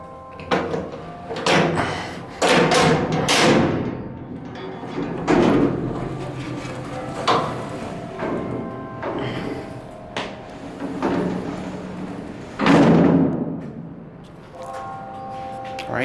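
Heavy door of a vintage Montgomery hydraulic freight elevator in a civil engineering building being worked open: a series of loud, close clanks, bangs and sliding scrapes spread over several seconds, with people talking in between.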